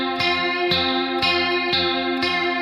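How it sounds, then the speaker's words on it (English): Distorted electric guitar with strong effects chugs in a steady repeating pattern, sharp attacks falling about every half second over a sustained harmonic drone, loud and alone without talk. "There's a bit more distortion comes in on the guitar sound."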